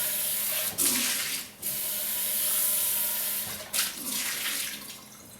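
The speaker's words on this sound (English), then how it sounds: "Rinse it off." A ridged cast iron skillet is rinsed under a running tap, with a loud steady rush of water broken by splashy bursts as the pan shifts under the stream.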